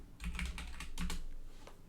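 Quick, light keystrokes on a computer keyboard typing a command, a short burst of clicks with a couple of heavier key presses, close and fairly quiet.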